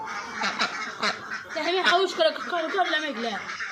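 Ducks on a duck farm quack in a busy, overlapping chorus of repeated nasal calls, close by, with a voice mixed in.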